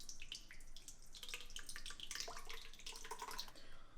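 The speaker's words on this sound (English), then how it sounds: "So 4 cups of water, right into that buttermilk." Water poured from a vessel into buttermilk while making kadhi, a faint steady splashing and trickling stream with no talk over it.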